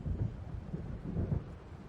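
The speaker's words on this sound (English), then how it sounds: "It seems there's a storm coming." Low, rolling thunder rumbles from an approaching storm in Alan Wake, a deep continuous grumble with a few heavier swells, moderately loud and without speech.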